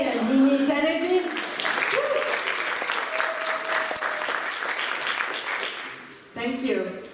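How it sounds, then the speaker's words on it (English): An audience claps steadily for several seconds, with voices over it at the start and end. "I would like you to give a round of applause to Aline because it's his birthday"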